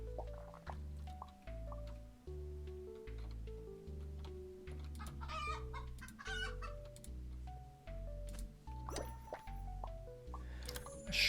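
Cartoonish chickens cluck in a bakery management video game, short repeated clucks layered over a bouncy tune and assorted game chimes and drips.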